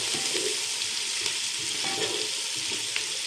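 Beef trotters frying in a pan give a steady, close sizzle throughout, with faint stirring scrapes and no talk.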